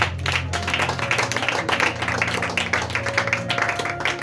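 A church congregation bursts into dense, continuous applause, many hands clapping together close by for a few seconds.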